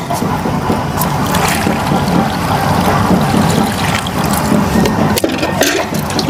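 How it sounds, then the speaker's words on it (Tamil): Water pours steadily and generously onto very dry soil in grow bags in a household garden, a continuous close splashing and trickling that runs unbroken from start to finish with no talk. "இந்த மண் வந்து ரொம்ப ட்ரையாக இருக்குது, அதால் தண்ணி நிறைய தாராளமாக ஊற்றியாச்சு."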